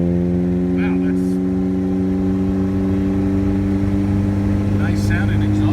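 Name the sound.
car exhaust revving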